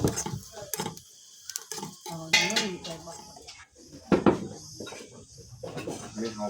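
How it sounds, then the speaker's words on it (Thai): Chilies, garlic and shallots are dry-roasted in a pan, with scattered clinks and scrapes of utensils against the pan and brief sizzling, while people talk intermittently nearby. "คั่วมะพริกกระเทียมหอมแดง"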